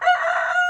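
A Rhode Island Red rooster crows once, close and loud, a sustained harmonic call lasting under a second.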